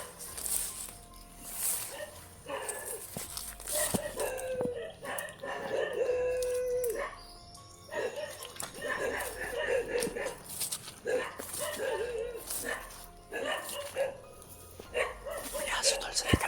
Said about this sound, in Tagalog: May aso tol sa kalayuan.